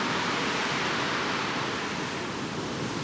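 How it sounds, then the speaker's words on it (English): A waterfall in the Arctic Circle near Nordkapp pours down as a dense, steady roar of rushing water, broadband and constant, heard alone without voices for a few seconds. "It's not raining, it's just the waterfall."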